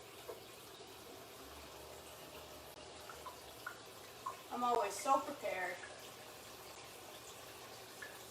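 Water running from a tap into a Keurig coffee maker's reservoir, a faint, quiet trickle under a brief spoken remark.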